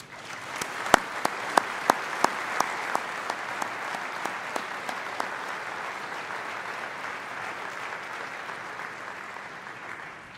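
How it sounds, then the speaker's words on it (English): Sustained applause from a large audience at a university law school graduation ceremony, dense steady clapping with a few sharp individual claps standing out early, then holding even throughout. "Please join me in thanking them with a well-deserved round of applause."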